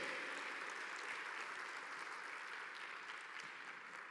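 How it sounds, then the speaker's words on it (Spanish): A church conference congregation claps together in a large worship space. The applause is soft and distant, a steady even wash of many hands that fades only slightly over a few seconds. "démosle un fuerte aplauso a Él, porque Él se lo merece"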